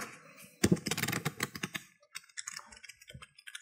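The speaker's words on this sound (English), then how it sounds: "That sounds like a keyboard to me." Typing on a computer keyboard: a dense flurry of close clicking keystrokes at first, then sparser, quieter taps trailing off.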